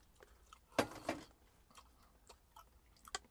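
Chewing spicy kimchi ramen noodles, a close, quiet mouth sound with a few soft, wet bites and crunches spread over a few seconds and no talking.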